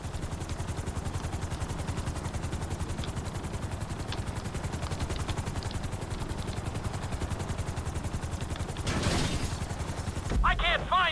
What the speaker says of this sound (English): Bring the helicopter down gently onto the helipad.